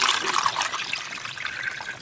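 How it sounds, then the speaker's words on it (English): Water poured from a container into chemicals, soda ash and sulphate, while mixing homemade bleach; a steady splashing, trickling pour lasting a couple of seconds, close and moderately loud with no voices. "Adding water to our sulphate."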